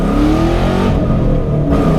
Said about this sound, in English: I'm about to do the pull of a lifetime in this almost 400 horsepower, naturally aspirated Mustang GT